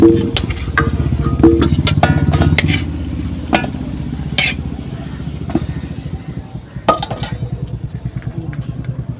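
Luchi (puri) dough frying in hot oil on a village clay stove, with a steady crackling sizzle and bubbling throughout and a few sharper clicks and taps over it.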